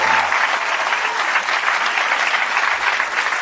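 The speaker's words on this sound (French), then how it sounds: "donc on peut les applaudir" A theatre audience at a stand-up comedy show claps loudly, a thick unbroken wash of applause from the crowd lasting several seconds with no talking on top.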